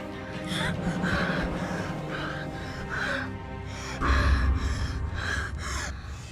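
A woman gasps repeatedly while short of breath, a string of sharp, close inhalations at an uneven rhythm, with a louder burst of breathing near the end.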